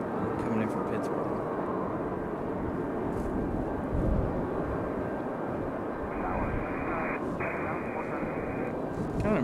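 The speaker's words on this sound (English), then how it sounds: "Looks like our next arrival is Republic Airways 4630. Coming in from Pittsburgh." Republic Airways flight 4630 from Pittsburgh arrives at Raleigh-Durham International, heard as a fairly distant, steady jet rumble with a faint tonal whine, with voices talking over it.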